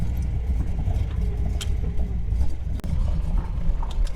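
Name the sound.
LS-swapped Nissan 300ZX engine running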